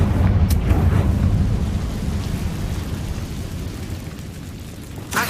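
A Confringo fire blast spell cast in the video game Hogwarts Legacy, a loud booming burst with a crackling rumble that slowly fades over several seconds, with a sharper flare near the start and another at the very end.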